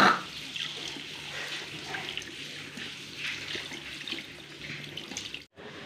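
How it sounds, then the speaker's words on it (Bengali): Tap water runs steadily into a sink during face and mouth washing, a continuous splashing flow that cuts off abruptly near the end. "চলো আমি মুখটা ধুয়ে নিই,"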